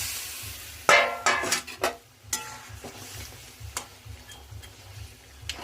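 Fish pieces go into a hot pan of spiced curry with a loud initial sizzle, followed by steady frying crackle and a few clinks of a utensil against the pan, with no talk.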